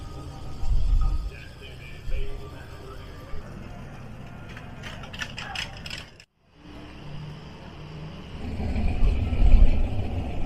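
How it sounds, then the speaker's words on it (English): Cars at a rod and custom muscle car show, engines rumbling low and close with mechanical clatter, a brief drop to near silence midway, then a louder revving swell at the end. "If you like the sound of motors and cars,"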